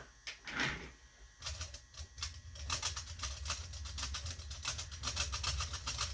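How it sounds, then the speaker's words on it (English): Primers rattling as they are shaken in a Lee Loadmaster reloading press, a quiet, close, rapid clatter of small metal parts that starts after a brief scrape and keeps going steadily for several seconds. "I got to shake them around a little bit to make sure the primers fall into the chute."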